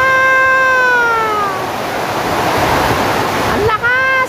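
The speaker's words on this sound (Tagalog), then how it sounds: "tubig ulan, lakas," Heavy rain and gusting wind pour down in a loud, unbroken roar. A person speaks over it at the start and again near the end.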